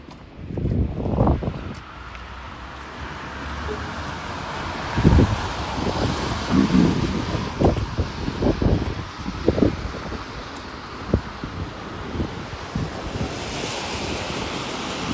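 Wind gusting against a microphone in broadband rumbles, with surf washing steadily behind it; no one speaks.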